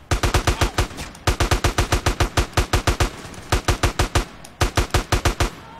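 An AK rifle fires in GTA: San Andreas in loud, close bursts of rapid automatic shots, separated by short pauses, with no talking.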